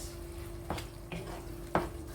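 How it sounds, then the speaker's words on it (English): Food being stirred in a pan of pasta with steak and chop seasoning, giving a steady low simmering hiss with three soft scrapes of a utensil against the pan, nearby and alone. "And just giving this a mix"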